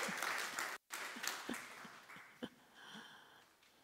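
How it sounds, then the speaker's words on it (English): A church congregation claps in a brief, fairly quiet burst of scattered applause, with a short pause partway through and a few voices faintly mixed in. "And you can clap if you want."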